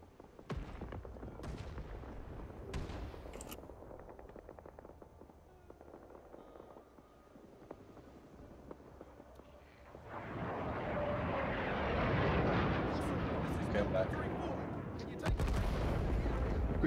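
Incoming artillery strike and gunfire in the video game Rising Storm 2: Vietnam: scattered sharp shots at first, then a loud, sustained rumbling barrage of blasts that fills the second half.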